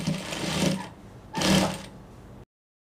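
A sewing machine top-stitches a fabric bias binding in two short close bursts of rapid mechanical stitching, then stops abruptly.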